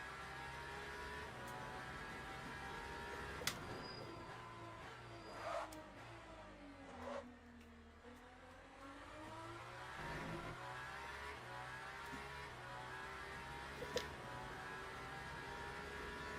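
Hypercar lapping Spa in the racing game Le Mans Ultimate, a steady engine drone that rises and falls through gear changes and corners, with occasional sharp shift blips, moderately loud and continuous without talk.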